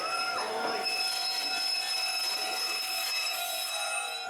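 A train pulls into a small rural station in Chiba, Japan, its wheels squealing with steady high-pitched screeching and a continuous rumble, close and loud throughout.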